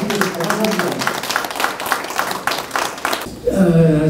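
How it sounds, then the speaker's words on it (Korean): Applause and clapping from an audience at a Korean community association gathering welcoming a new consul general in Atlanta, a dense run of claps for about three seconds that stops abruptly as a voice begins speaking. "여러분 큰 박수로 다시 한번 환영해 주시고 협조만 부탁드립니다"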